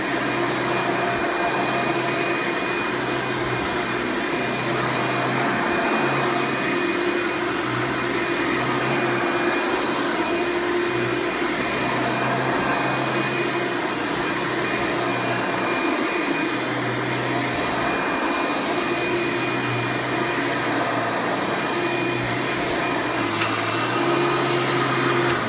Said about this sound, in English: It's hard to know the vacuum's propelling itself.